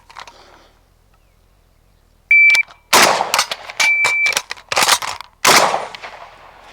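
Rifle shots from a mostly stock WASR 10/63 with iron sights during competition shooting drills, five sharp loud reports in quick succession after a quiet lead-in, each cracking close with brief ringing tails, plus a couple of short electronic beeps.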